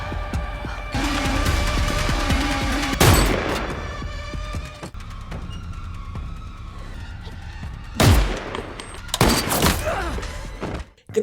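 Gunfire in a sniper film scene, with sharp loud shots near three and eight seconds cutting through dramatic music and a wailing siren-like tone, with no voices.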